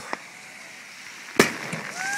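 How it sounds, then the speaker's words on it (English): Fireworks over Ocean View Beach in Norfolk, Virginia: one sharp, loud crack stands out, with a few fainter pops before and after and a rising whistle near the end, all over a steady outdoor hiss. "all the fireworks are going off"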